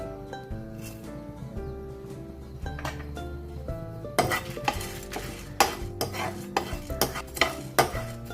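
Cumin and raw rice dry-roasting in a pan for sambar, stirred with a utensil; scraping and clinking strokes grow louder and more frequent midway, set against steady background music.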